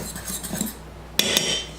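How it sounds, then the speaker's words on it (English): Cornbread batter is stirred by hand in a bowl, giving a run of soft scraping clinks of utensil against the bowl, then louder, brighter rattling knocks toward the end, close by with no talk. "Just mix it up really good"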